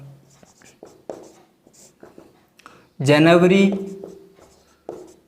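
A pen writes out a maths solution in short, scratchy strokes on paper, heard between and beneath a man's explanatory speech.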